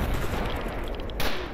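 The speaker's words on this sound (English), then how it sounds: "Check out this firefight that I got into with the Monolith while storming the CNPP." A brief, loud burst of gunfire during a firefight with Monolith fighters storming the CNPP in Stalker Anomaly, dense and steady with a sharper crack near the end.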